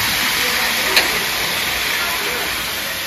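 Chicken pieces dropped into hot spiced oil in a village kitchen set up a loud, steady sizzling hiss that carries unbroken through the clip, with one brief sharper crackle near the start.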